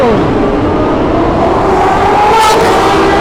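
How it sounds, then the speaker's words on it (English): Superbikes race at night through the Dallas tunnels: a loud, continuous engine roar echoes throughout, with a sharp rising surge as a bike flies by close near the end. "There's some guys racing right here. It's gonna be a crazy flyby."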